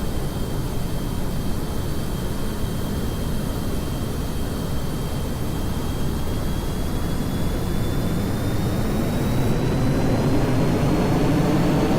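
An aircraft takes off in the Kerbal Space Program video game, its engine roaring as a steady, loud, unbroken drone with a faint tone rising slowly, building slightly toward the end.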